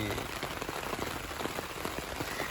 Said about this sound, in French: il y a le bruit de l'eau sur le toit